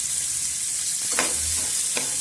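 Cumin and chopped onion frying in a spoonful of cooking oil in a pan, a loud steady hiss close by, broken by a couple of light stirring scrapes, with no speech.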